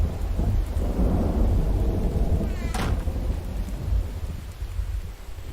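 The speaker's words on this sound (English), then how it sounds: "See if the rain has gone away." Rain and a thunderstorm in The Infected video game: steady heavy rain hiss throughout with a sharp thunder crack midway, followed by a lingering rumble.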